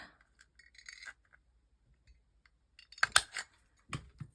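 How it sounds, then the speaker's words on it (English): A corner punch clips the corner of a sheet of craft paper: faint scraping and handling at first, then a sharp, close cluster of clicks and snaps, followed by a softer final click in an otherwise quiet room. "And then you take a punch and you kind of put your paper in there"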